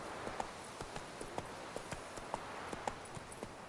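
Hooves of Roach, a horse in The Witcher 3, clip-clop in a steady walking rhythm, each strike crisp and fairly close, with no talk over them.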